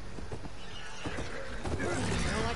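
A horse in the video game Horizon II Forbidden West gives a loud, close whinny over brief hoof clip-clops, with game sounds layered in.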